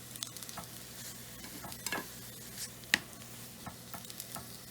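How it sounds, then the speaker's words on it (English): Vegetables sautéing in butter and olive oil give a soft, steady sizzle with occasional stirring scrapes and light clicks, fairly quiet and with no voices. "And we're just gonna basically saute them."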